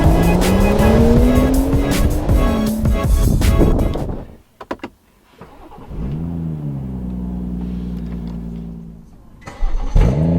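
BMW M140i starting up and revving, a loud, close engine rising in pitch, dropping off, then idling and building again, with faint talk in between.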